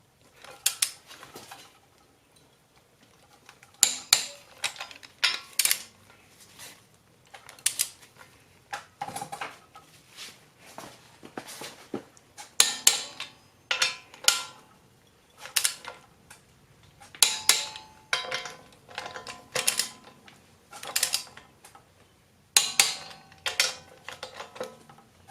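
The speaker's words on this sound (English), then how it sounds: "Got my torque wrench set up here." Torque wrench tightening front wheel bearing bolts to 72 foot-pounds on a 2004 Infiniti G35X, fitted with a short extension: repeated metallic ratcheting clicks and creaks in bursts, close up, with no talking.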